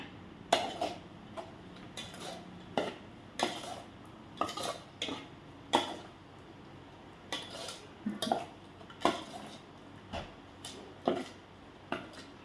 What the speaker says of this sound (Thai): แล้วเขาก็คนเข้ากันค่ะ